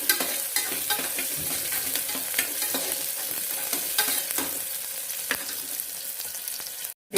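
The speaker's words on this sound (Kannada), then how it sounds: "ಈರುಳ್ಳಿ ಸ್ವಲ್ಪ ಚೆನ್ನಾಗಿ ಫ್ರೈ ಆಗಲಿ." Onions fry in hot oil for a groundnut and potato sambar, a dense continuous sizzle with frequent spatula scrapes and taps close by, then cutting off abruptly at the end.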